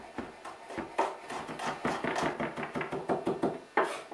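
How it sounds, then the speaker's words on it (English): A knife dices garlic on a cutting board in a quick run of close, crisp taps with an irregular rhythm, heard alone. "And then dice."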